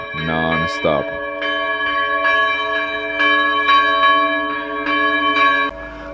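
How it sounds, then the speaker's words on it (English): Church bells in Syria ring loudly and continuously, several tones struck in an irregular pealing rhythm, their tones overlapping and sustaining. "the bells non-stop"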